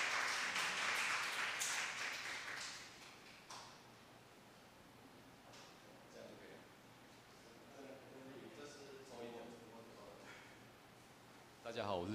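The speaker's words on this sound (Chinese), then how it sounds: "现在我们就一起掌声来欢迎我们的许律师" Audience applause welcoming a lawyer to the stage at a church-hosted talk: a dense burst of clapping for the first three seconds that quickly thins and fades, followed by quieter room sounds and some voices.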